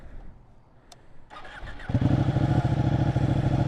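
A motorcycle engine cranks and fires up on a cool day, a brief whir followed by the engine catching and settling into a loud, steady idle that fills the rest of the clip.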